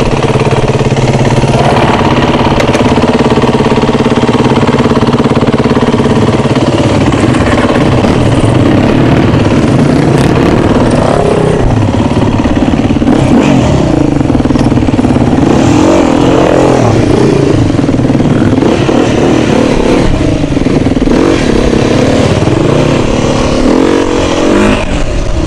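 Suzuki DRZ 400 motorcycle engine riding through a large gravel pit, loud and close throughout, a continuous rough engine drone with shifting revs and wind noise.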